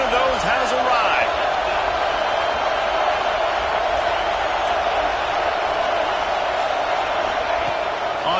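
Dense, steady roar of a big stadium crowd at a college football game between South Carolina and Nebraska, loud and continuous throughout with brief sharper cheers rising near the start.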